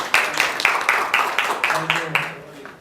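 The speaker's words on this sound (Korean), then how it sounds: "뜨거운 박수 부탁드립니다" Applause at a Korean association's founding ceremony after a lecture, heard as a rhythmic run of about ten evenly spaced, crisp claps at close range, tapering off near the end.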